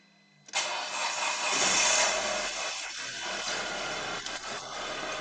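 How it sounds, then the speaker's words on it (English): An Audi A4 engine cranks and fires with an abrupt start, then runs in a loud, steady idle close by, with faint small knocks in the background. "So let's start the engine."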